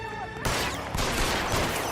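Gunfire in the LA Noire video game, a loud burst of shots cracking out in quick succession with a dense, sustained volley following close behind.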